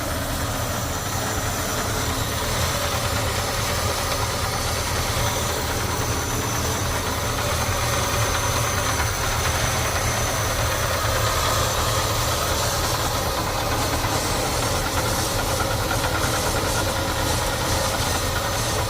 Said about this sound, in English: Gotta love a big block Ford,